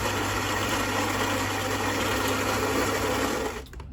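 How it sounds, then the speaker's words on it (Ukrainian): A Philips coffee machine's built-in grinder runs with a loud, steady whirring buzz for several seconds, then cuts off abruptly near the end. "Кавомолка працює. Якісь видає звуки."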